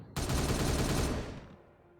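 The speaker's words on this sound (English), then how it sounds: "Firing on target." Space Marine weapons firing in Warhammer 40K Regicide: a loud, sustained burst of rapid gunfire that starts abruptly, holds for about a second, then fades into a decaying tail.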